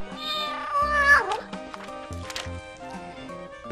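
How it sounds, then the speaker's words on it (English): A cat meows in a night-time garden, a few drawn-out, wavering cries over soft, steady background music. "The cat steps out and walks around the edge of the garden"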